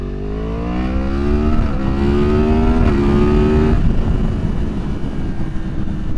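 A 2023 Yamaha MT-10 with a decatted Leo Vince exhaust and Moore Mafia flash accelerates at part throttle, a loud close engine roar rising in pitch through a gear before dropping back to a rumble.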